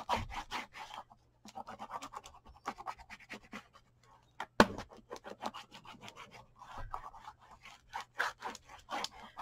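Bone folder burnishes paper on a handmade coffee box, producing quick repeated dry rubbing strokes, close and quiet, in irregular bursts with one sharper tap midway.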